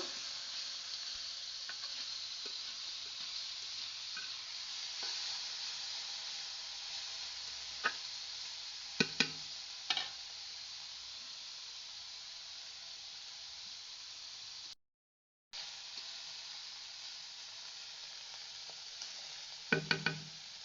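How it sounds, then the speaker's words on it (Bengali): Small fish coated in turmeric and salt fry in hot oil with a steady, fairly quiet sizzle, broken by a few brief louder crackles and spatters and one short gap of silence. "মাছগুলাই আমি হলুদ লবণ মাখিয়ে রাখছিলাম এবার আমি মাছগুলো ভাজবো"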